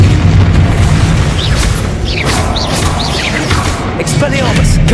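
Bombarda blasting spell blowing up in the Hogwarts Legacy video game, heavy booming blasts over a loud, dense battle mix, with spoken game voices woven through.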